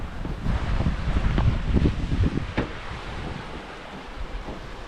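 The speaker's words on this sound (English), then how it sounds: "Lovely clear bit of the river this is." Water of a clear river flowing on a foggy Exmoor walk while it is being crossed, a steady broad rush mixed with gusty wind buffeting the microphone, with no talk.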